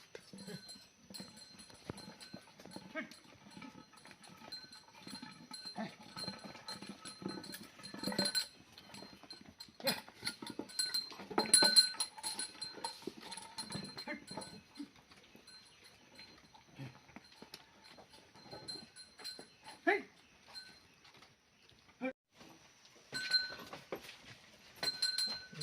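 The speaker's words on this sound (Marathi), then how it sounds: "आता गायी आपल्या गोट्यात चाललेत." Cows walk into their shed on a hard floor, with scattered hoof clops, clinking metal and shuffling; a faint voice now and then.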